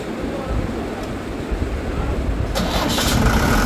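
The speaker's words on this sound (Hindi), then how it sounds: "चलिए दोस्तों स्टार्ट करते हैं जनरेटर को।" A 30 kVA generator powered by a Tata 407 turbo diesel engine is started, with a low rumble followed partway through by a louder engine catching and settling into a steady run.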